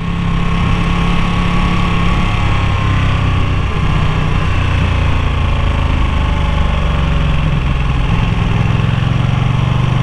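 A Ducati Panigale V2 motorcycle engine in sport mode runs continuously, a loud, close, throaty drone with steady low pulsing and slight shifts in pitch as the revs vary.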